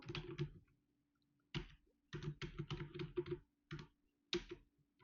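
Someone types on a computer keyboard in short irregular bursts of close, soft key clicks separated by brief pauses, with quiet surroundings and no talking.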